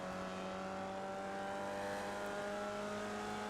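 Formula Vee race car in iRacing at Lime Rock Park, engine held at full throttle while accelerating out of a corner in third gear; a steady, loud buzzing drone with constant harmonics and no talking.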